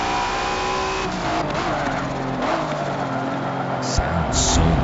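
An imported car with a swapped engine drives in the video game Midnight Outpost, its engine droning steadily and loudly with slight pitch shifts throughout, a brief tire squeal near the end.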